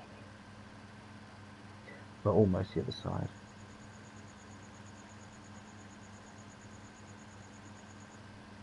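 A tractor engine in Farming Simulator 2017 drones steadily at low volume as it drives across the farm map, with someone speaking briefly over it.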